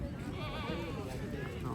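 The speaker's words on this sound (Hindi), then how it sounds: "ये भाई बहुत खूबसूरत बकरे हैं ये वाले" Goats at a livestock market in Pakistan give faint, overlapping bleats within a dense crowd murmur, with people talking throughout.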